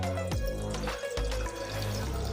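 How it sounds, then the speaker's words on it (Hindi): Water is poured into a pan on the stove to cook chana dal for chicken shami kabab, making a steady, splashing stream over low background music. "अब हम इसमें डाल देंगे पानी"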